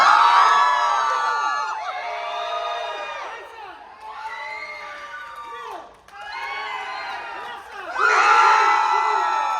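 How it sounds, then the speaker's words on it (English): A large audience at a horror convention panel cheers, whoops and shouts in sustained waves, swelling loud, dipping briefly, then surging again near the end. "Make them cheer for you guys."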